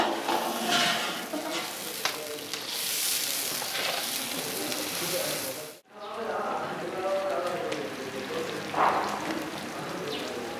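Tomatoes tip into a hot frying pan and get stirred, giving a loud, continuous sizzle with scraping stirs, a brief drop near the middle, then renewed frying.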